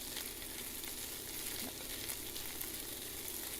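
Something frying in a pan until golden for a salmon fish curry gives a steady, even sizzle that holds without a break and without voices for a few seconds.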